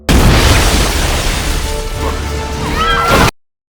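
A large machine crashes down from the ceiling onto a collapsing bridge, a loud sustained booming smash with rumbling debris and metallic groans that ends abruptly.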